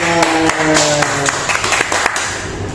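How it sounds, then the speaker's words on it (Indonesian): An audience applauds a guest at a talk show event, with sustained clapping blended with music-like tones and voices in the background. "Kasih tepuk tangan."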